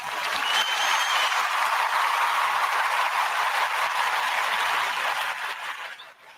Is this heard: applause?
yes